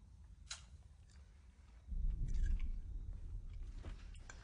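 Close, wet chewing and crunching of fingernails, soft irregular bites building into a louder steady gnawing stretch midway, with no one speaking.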